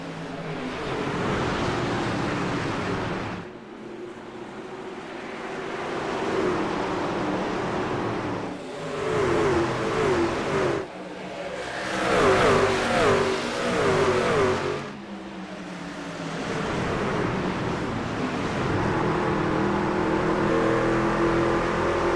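Race trucks in a video game at New Hampshire roar around the track, engines revving and surging in waves with passing bursts, loud and continuous throughout with no talk.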